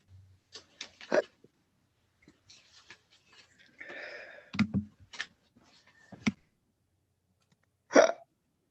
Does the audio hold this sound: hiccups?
yes